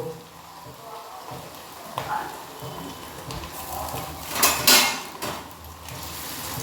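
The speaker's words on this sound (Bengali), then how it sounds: "এবার এই আদা থেতোটাকে আমি তেলের মধ্যে দিয়ে দেবো" Crushed ginger drops into hot oil and crackles with a steady frying sizzle that flares louder for a moment, while a nearby voice talks over it, cooking for Bihari-style mutton.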